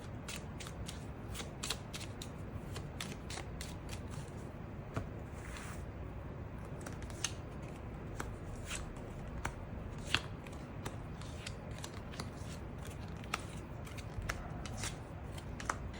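Tarot cards being shuffled and drawn by hand, a long run of quick, crisp riffling clicks and soft slaps up close, fairly quiet and steady, with no voices.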